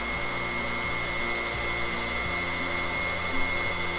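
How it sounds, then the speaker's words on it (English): An electric stand mixer fitted with a wire whisk beats red velvet cake batter, a steady continuous motor whir with a faint rhythmic churning, close and even throughout with no talking. "I'm using here a wire whisk."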